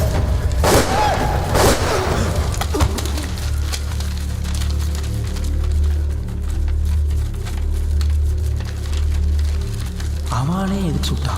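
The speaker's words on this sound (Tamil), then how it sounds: "அவனே எதுக்கு சுட்டான்?" Gunfire in a Tamil action film scene from Naaigal Jaakirathai. Two sharp, loud shots ring out close together early on, then give way to a low, steady rumbling drone, with faint sliding tones near the end.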